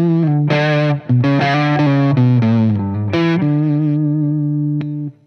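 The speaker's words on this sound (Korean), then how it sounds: "그 다음에 오버드라이브." Yamaha Revstar Elements RSE20 electric guitar played through overdrive, a few sustained distorted chords and notes ringing loud and close, with a final long note held and fading.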